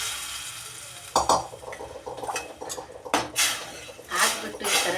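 A spoon stirs potato tomato gojju in a metal pot, giving repeated clinks and scrapes in an irregular rhythm, close by, with a faint simmer underneath.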